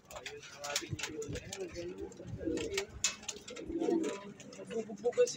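Pigeons in a fancier's loft coo repeatedly in soft low rumbles, with some chirps mixed in, while a person talks over them close by.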